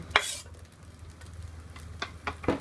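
Chopped shallots, garlic and red and green chilies stir-fried in a pan, with a soft sizzle under sharp scraping stirs and clicks of a utensil against the pan, several quick strokes spaced apart.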